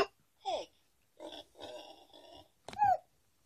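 A pig oinks from a children's sound book, giving short grunting bursts with gaps between them, quiet and close.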